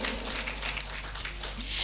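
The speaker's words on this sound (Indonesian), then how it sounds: "Tepuk tangan untuk kita semua hari ini" Audience clapping at a BKKBN East Java forum, sustained and moderately loud, with a few sharper individual claps standing out from the steady patter.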